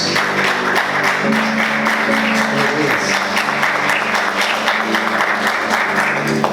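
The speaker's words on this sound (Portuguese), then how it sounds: "Vamos aplaudir Jesus" A church congregation claps steadily in praise during a worship service, dense and sustained applause filling the room for several seconds, with a low organ or keyboard hum and scattered voices underneath.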